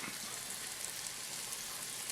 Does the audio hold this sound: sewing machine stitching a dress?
no